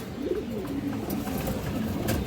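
A pair of old-breed red Chulli pigeons coo softly and repeatedly at close range, their low, rolling calls over a steady background hiss with no voices.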